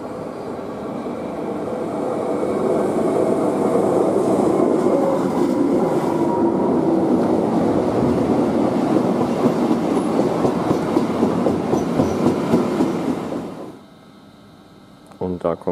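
A Railjet train passes through Kufstein station without stopping. A loud sustained rumble builds with rhythmic wheel clatter over the rail joints for about thirteen seconds, then cuts off, leaving quiet station ambience.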